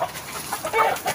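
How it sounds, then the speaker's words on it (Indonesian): A chicken clucks nearby in a few short, bright bursts, a quick irregular string of calls over quiet background. "Malah ada ayam, ngapain deh si ayam?"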